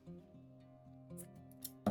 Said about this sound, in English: we're just going to cut through this end with some scissors